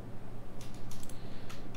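Rapid clicking of keys on a computer keyboard, bursts of typing close by over a steady background hum, with no voices.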